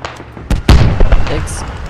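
Mortar rounds explode in the military shooter game Squad: two sharp, loud booms land close together, followed by rumbling aftershocks, with voices talking in the background.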